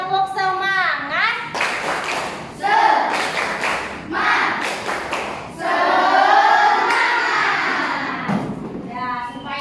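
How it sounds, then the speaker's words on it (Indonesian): A school class does a rhythmic spirit clap, a chant-and-clap routine with the children's voices chanting along in bursts between clustered hand claps, close and loud. "Tepuk semangat."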